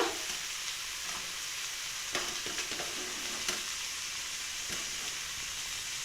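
Carrot and capsicum are stir-fried in a pan, shop-style, producing a loud steady hiss of sizzling oil with occasional scraping clacks of a spatula.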